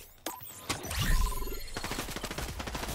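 Gunfire in the Fortnite video game: a burst of sharp cracks followed by a rapid rattling series of shots, moderately loud with no talk over it.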